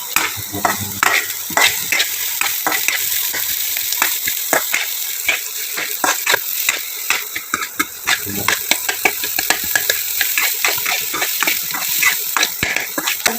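Vegetables cut into thin strips fry with salt in a hot pan, sizzling continuously up close, with dense, rapid clatters of a spatula tossing and stirring them throughout.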